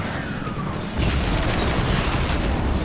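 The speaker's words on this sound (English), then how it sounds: "so I'll just do a nuke here" A nuke detonates in the game Titanfall Assault, a loud, deep boom that erupts about a second in and rolls on as a dense, sustained rumble with crackling debris, no voices over it.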